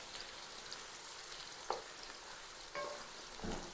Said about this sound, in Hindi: तो भैया ऑयल हमारा गर्म हो चुका है, इसमें हम 2 अदद प्याज शामिल कर देंगे इस तरीके से